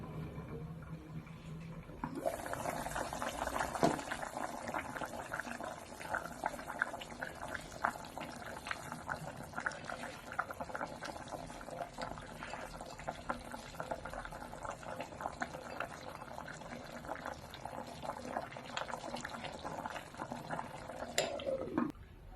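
Bone-in beef cuts simmer in a pot of boiling broth, a faint, steady bubbling with soft liquid churn and occasional light clinks of pot or utensil, continuing evenly after a quiet start.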